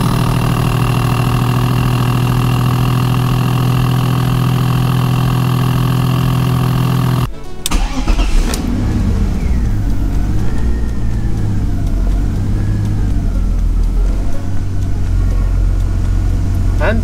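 A BMW E46 engine is cranked on the starter and then settles into a steady idle to warm up, loud and close, with people talking during the idle.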